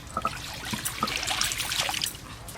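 Water drains off boiled taro in a steady close trickle and splash, continuous for a couple of seconds.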